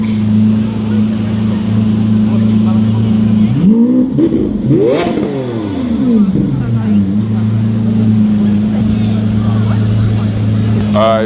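Cars with loud exhausts sweep past on a Shibuya street in Tokyo at night, a rising and falling roar swelling around the middle over a steady low engine drone, with occasional voices nearby.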